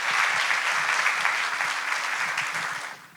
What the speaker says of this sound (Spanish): Un fuerte aplauso, por favor, para ellas.